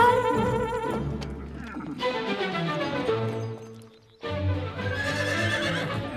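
A horse whinnies loudly and repeatedly in a stable, long wavering neighs with a short pause before another call, along with faint hoof shuffling nearby.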